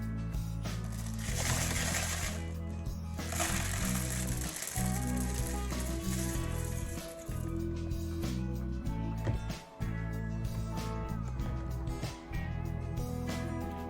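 A rock tumbler barrel turns during a cleaning cycle to flush out leftover grit, giving a loud, steady mechanical grinding and rattling hum with a clicking, gear-like rhythm and brief dips partway through.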